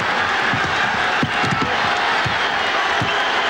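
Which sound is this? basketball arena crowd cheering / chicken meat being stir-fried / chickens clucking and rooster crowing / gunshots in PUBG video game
basketball arena crowd cheering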